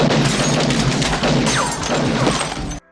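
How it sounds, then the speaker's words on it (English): A dense burst of action-film gunshot sound effects, booms and cracks, fills the clip loudly, then cuts off abruptly at the end. "one of the defining things from that type of action film is this particular gunshot sound effect"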